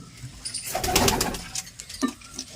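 Soft, low pigeon coos close by, a few throaty calls with light fluttering and rustling in a quiet space.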